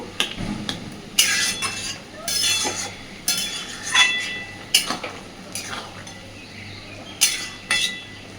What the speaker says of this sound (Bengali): চিনিটা দিয়ে আবারও একটু নাড়াচাড়া করে সব কিছু মিশিয়ে দেব